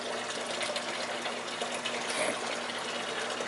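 Water mixed with salt draining into a MINI*MAX water softener, a steady close rushing and gushing flow that holds at an even level throughout with no voices over it.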